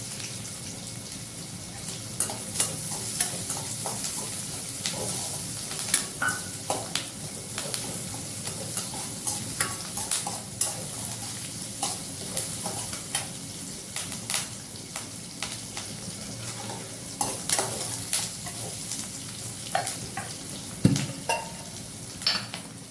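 Onions and curry leaves fry in a pan, giving a steady sizzle with frequent scraping and stirring clicks throughout, fairly close and moderately loud.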